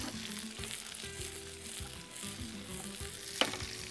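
Onions dropped into hot oil with crisp-fried curry leaves in a pan, a steady low sizzle with soft stirring scrapes and one brief clink, close and quiet with no talking.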